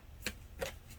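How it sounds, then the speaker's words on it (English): A deck of tarot cards being shuffled, two short, soft riffling bursts close by in a quiet room. "Do 2 more shuffles."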